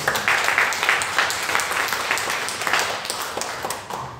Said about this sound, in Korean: 박수로 한번 감사합니다.